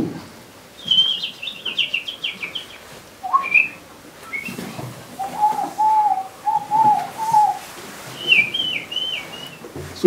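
Birds chirp and whistle in scattered bursts, with a lower warbling call in the middle, fairly close against a quiet background.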